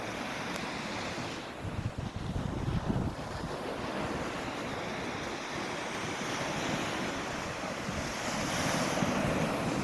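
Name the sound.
Black Sea waves on Golden Sands beach, Bulgaria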